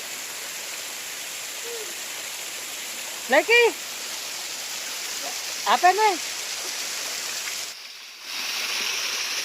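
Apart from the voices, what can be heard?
small waterfall flowing in Singkut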